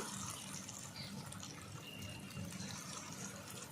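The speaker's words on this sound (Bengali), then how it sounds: "হালকা করে অল্প একটু জল দিয়ে দেবো" Water pours into a pan of kudri curry as it cooks with its spices, a steady liquid splash and gush running continuously for a few seconds at moderate volume.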